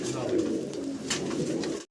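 A pair of large white pigeons coos steadily in a cage, the soft low throaty calls running continuously and close by.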